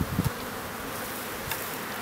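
Honey bees drone at an opened hive frame, a close, continuous buzzing hum with a couple of brief knocks.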